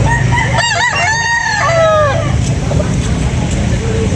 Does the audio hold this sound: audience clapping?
no